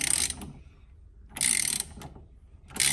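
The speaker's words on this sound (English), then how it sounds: "So then simply a case now of just tightening up the centre nut." A ratchet tightens the centre nut of a steering wheel while a boss kit is fitted, three short bursts of rapid close clicking separated by brief pauses.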